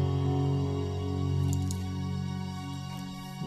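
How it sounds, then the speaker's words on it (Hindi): A sustained string piano tone on a Casio CTX9000IN keyboard, a chord with a smooth string-like layer, steady and mellow, holding without pause. "इसका एक स्ट्रिंग का इफेक्ट साथ में रहता है जैसे कि अभी आप सुन पा रहे होंगे"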